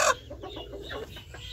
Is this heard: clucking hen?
yes